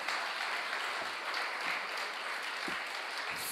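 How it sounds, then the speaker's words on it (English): Steady applause from a lecture audience fills the whole stretch, dense clapping at moderate volume with no voices over it. "Another round of applause for Minister Samuda."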